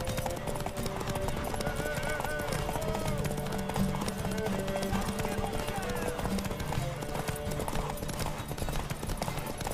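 Horse hooves clip-clop steadily in The Witcher 3, a continuous quick rhythm of hoofbeats mixed with game music and character voices talking over the top.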